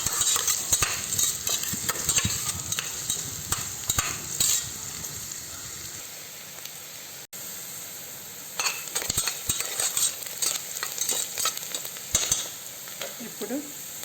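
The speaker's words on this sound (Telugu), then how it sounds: "ఇది ఎర్రగడ్డలు వేయించుకోవాలి." Chopped onions fry and sizzle in oil in a pan for a mutton curry, with scraping stir strokes and clinks throughout, the sizzle dropping to a steady low hiss midway before stirring picks up again.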